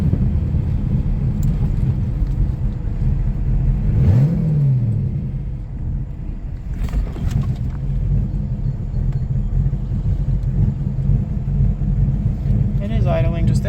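A 1998 TVR Chimaera 500 V8 idles with a steady, loud low rumble, its engine note holding slightly low and uneven throughout, with a brief rise in pitch early on.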